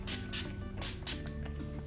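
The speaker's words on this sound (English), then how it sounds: "This is the Urban Decay All Nighter setting spray." Urban Decay All Nighter makeup setting spray is misted in several short bursts, each a soft pump and hiss in an uneven sequence, close by and fairly quiet, with no talking.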